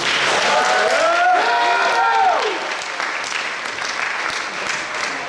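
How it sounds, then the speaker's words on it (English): A closing-speech audience at Culture Night 2025 breaks into a full round of applause, dense clapping that stays strong, then thins toward the end. A voice speaks over the opening stretch. "Can we get a round of applause for that?"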